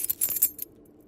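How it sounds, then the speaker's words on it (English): A bunch of keys on a chain jangles briefly, a few bright metallic clinks close by over about half a second, then falls quiet. "I have all the keys on this chain."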